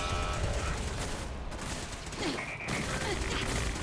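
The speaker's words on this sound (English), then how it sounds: "It really is a turret bot." Turret bot in Fallout 4 shoots rapidly, a dense mechanical fusillade of gunfire bursts close and loud, with brief gaps and electronic chirps between volleys.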